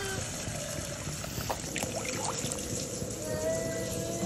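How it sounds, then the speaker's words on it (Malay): Water pours into a cooking pot for a red fish head curry with tamarind, a steady trickling stream heard alone at moderate level. "Masukkan air."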